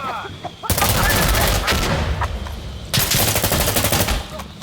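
Rapid bursts of gunfire ring out from a played video clip, two long loud volleys of repeated shots separated by a short pause, with no talk over them.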